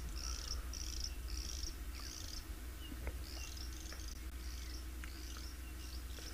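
Rapid pulsed chirping trills repeat in short bursts over a steady low hum, cricket-like and moderately faint, at sunrise on an African safari, with no voices.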